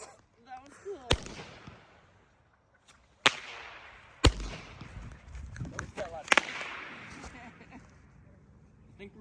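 Fireworks go off in the open, several sharp loud bangs spaced a second or two apart, each trailing into crackle and rumble, while people talk and exclaim in between.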